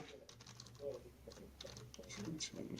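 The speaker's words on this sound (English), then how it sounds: "You hear him typing on the keyboard." Quiet, rapid clicking of keys typed on a computer keyboard in irregular bursts, faint and close, with soft voices murmuring underneath.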